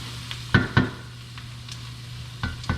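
Ingredients for New England clam chowder sauté in a pot with a soft, steady sizzle, broken by a few sharp utensil clinks and scrapes, quiet and with no one talking.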